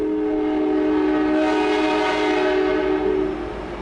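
A loud, sustained locomotive horn blares steadily for several seconds, rich in harmonics, then fades slightly near the end.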